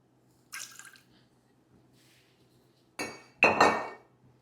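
Tequila and Cointreau go into cocktail glassware for a margarita, heard as a brief clink and trickle, then a pause, then two louder splashing pours close up in a quiet room.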